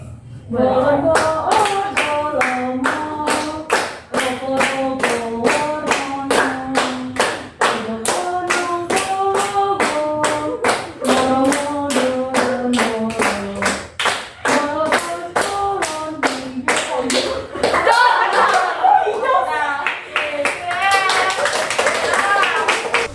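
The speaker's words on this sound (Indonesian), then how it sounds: "Kalian tepuk tangan ya" A group in a school counselling session claps in a fast, even rhythm while voices sing or chant along over the beat, then the clapping breaks into looser, scattered applause near the end.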